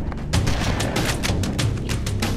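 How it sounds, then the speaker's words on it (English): Shotgun blasts in Halo: Combat Evolved: a rapid string of about eight loud, booming shots in quick succession, each with a sharp crack over a continuous rumbling game backdrop. "The shotgun is really powerful."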